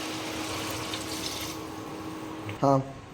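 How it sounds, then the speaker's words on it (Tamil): Water is added to a pan of tomato curry, a soft running pour under steady kitchen background, ending with a short louder clatter. "இப்போ வந்து தண்ணி ஆட் பண்ணிக்கலாம்"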